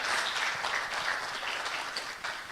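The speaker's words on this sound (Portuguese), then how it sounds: "Uma salva de palmas." A seated audience at a public talk in Mogadouro gives a steady round of applause, a dense even patter of many hands, fairly soft and distant, with no talking over it.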